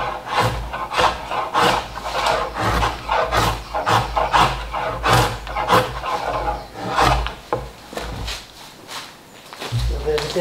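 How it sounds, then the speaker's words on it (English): A draw knife rasps along a hand-carved wooden wind turbine blade in steady, repeated scraping strokes about twice a second, close and clear, with someone talking at times. "Draw a knife to start with."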